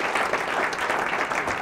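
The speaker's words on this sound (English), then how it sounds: "Let's give him another round of applause." Audience applause for a speaker at a talk on America's marriage divide, a brief steady wash of clapping at moderate level with no voices on top.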